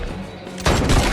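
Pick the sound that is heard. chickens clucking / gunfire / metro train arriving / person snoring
gunfire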